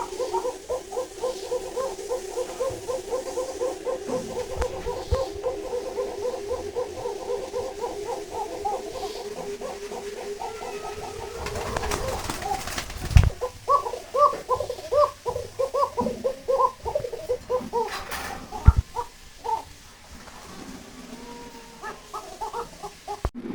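A pair of Bombay pigeons calls in repeated rhythmic cooing phrases, close and fairly clear, broken midway by a couple of brief louder noise bursts.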